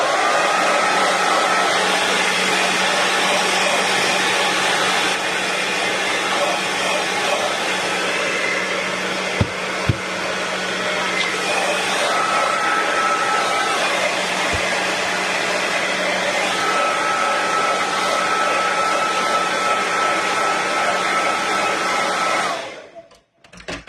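A heat tool blows a loud, steady whir over a craft tag to dry paint, running continuously close by for about twenty-two seconds before shutting off.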